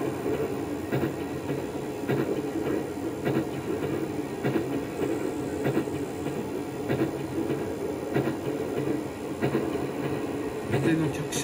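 A KATO sound card for a 205 series model train plays a station departure melody, heard as a steady recorded tune with a rhythmic clicking pattern underneath, moderately loud and continuous throughout.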